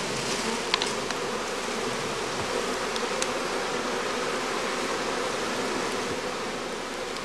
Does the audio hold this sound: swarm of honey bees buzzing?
yes